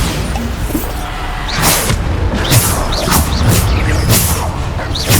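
Repeated Bombarda blasting-spell explosions in Hogwarts Legacy, several sharp booming bursts with whooshing tails arriving in quick succession over a constant low battle rumble.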